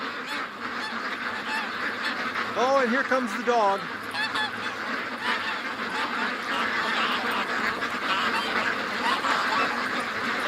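Geese honk in a short burst of two or three calls over steady gusting wind off a lake on a freezing day, with ducks about and someone speaking nearby.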